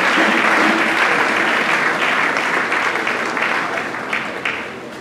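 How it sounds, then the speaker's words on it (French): A church congregation claps and cheers loudly in praise of the Lord, a dense sustained wave of applause that gradually tapers off toward the end. "Acclamons très fort le Seigneur."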